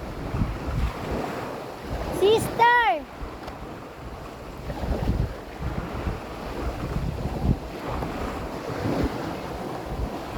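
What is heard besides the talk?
ocean waves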